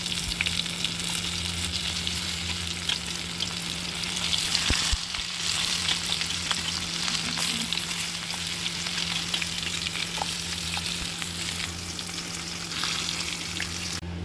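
Bitter gourds fry with masala in a pan, giving a steady, dense sizzle that holds loud and close throughout, with occasional faint stirring scrapes.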